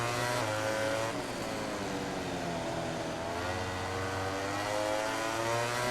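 Ducati GP18 and GP17 MotoGP racing engines in the MotoGP 18 video game, a loud, continuous high-revving howl that holds steady and shifts pitch slightly as the bikes run, with no talk over it.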